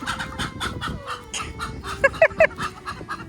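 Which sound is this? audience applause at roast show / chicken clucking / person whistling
chicken clucking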